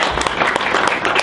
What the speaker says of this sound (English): Let's give my brother a round of applause.